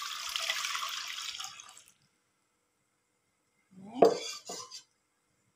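Coconut milk and about a liter of water are poured into a pot, starting with a steady splashing pour that tapers off, then after a pause come a couple of close clinks and a short splash.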